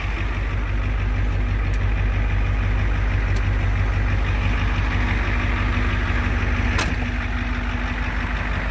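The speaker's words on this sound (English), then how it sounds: "I wanted to pull the muffler off and see if it sounded any better." A 1988 Ford truck engine idles with its muffler pulled off, a loud, close, steady low rumble with a rapid even exhaust pulse throughout and a few faint clicks above it, no talking.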